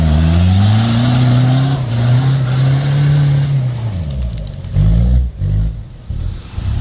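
A loud 4x4 off-road vehicle engine strains and revs under load climbing a muddy slope, pitch climbing steadily, then drops and sputters in rough, uneven bursts close by.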